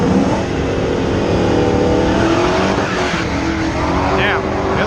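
A drag car's engine roars loud and close at a drag strip, revving hard with a rising pitch as it launches, tires squealing briefly, while voices talk over the noise throughout.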